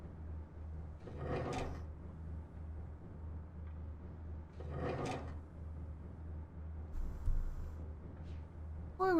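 A lava mechanism in the video game Myst III: Exile moves with two separate grinding, rumbling bursts a few seconds apart over a low steady hum, quiet and alone.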